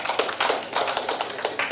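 An audience claps at a formal meeting on a digital certificate agreement, a brisk run of dense, overlapping hand claps close by, fairly loud and with no talk over it.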